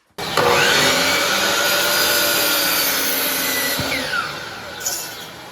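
A 2x4 wooden board is cut to length for garage shelving, a loud, close power saw running continuously for about five seconds before winding down.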